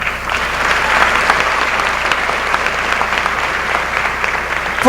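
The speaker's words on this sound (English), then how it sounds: "a round of applause" A high school graduation audience in Russell County, 2018, applauds the board of education with steady, dense clapping from a large crowd that holds an even loudness for about five seconds, with no talking over it.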